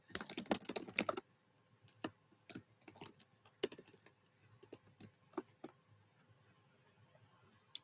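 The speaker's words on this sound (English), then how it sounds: "Let me type something in chat." Typing on a computer keyboard: a dense burst of close key clicks, then scattered, irregular taps and clacks over several seconds at a quiet level, no voices.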